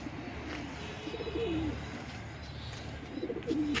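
Domestic pigeons kept in rows of coops give low, wavering coos, one soft call near the middle and another toward the end over a steady background hum.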